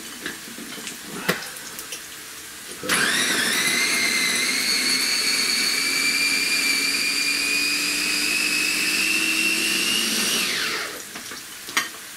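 An electric grinder pulverizes garlic cloves and green chilies for an aubergine and potato dish, a loud steady whine with a slowly rising pitch that runs for about eight seconds before cutting off, with quiet kitchen clatter before and after.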